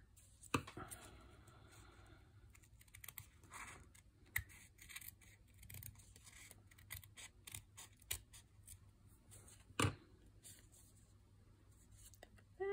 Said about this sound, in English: And then once you've got all your pieces glued down, what you can do is trim off any excess.